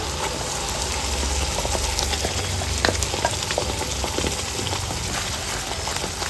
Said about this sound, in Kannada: ಚೆನ್ನಾಗಿ ಫ್ರೈ ಮಾಡ್ಕೋಬೇಕು ಮಸಾಲೆನ ನಿಧಾನ ಉರಿ ಇಟ್ಕೊಳ್ಳಿ